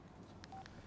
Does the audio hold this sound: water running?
no